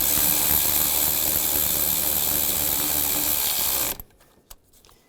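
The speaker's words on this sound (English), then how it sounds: "Tighten this one down." Ratchet wrench tightening an exhaust manifold bolt on a 2002-2009 Chevrolet Trailblazer engine, a dense continuous mechanical clicking that runs loud and close for about four seconds, then stops abruptly, leaving a few faint knocks.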